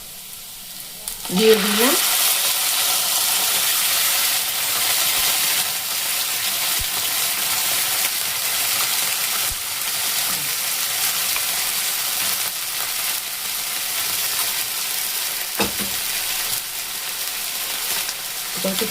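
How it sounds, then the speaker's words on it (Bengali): Onion and ginger sauté in a hot pan with a steady, loud sizzle of frying that runs throughout, broken by a few scraping stirs. Brief speech comes near the start. "এটাকে আমি দিয়ে এখন কষিয়ে নেব"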